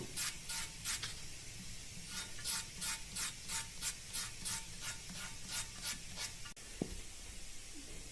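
Sandpaper rubbing across an alabaster Möbius strip sculpture in quick, even rhythmic strokes, close and fairly quiet, with a faint knock near the end.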